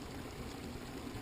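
Water runs steadily into a hydrocyclone vortex, a soft, continuous flowing wash heard alone and close at low level.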